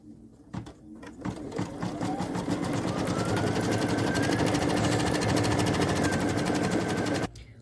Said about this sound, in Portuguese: a máquina vai finalizar aqui, fazendo a costura